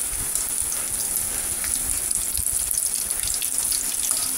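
Lumpia chips made from siomai wrappers filled with ground meat fry in hot oil, giving a steady, dense sizzle and crackle close by that lasts the whole time.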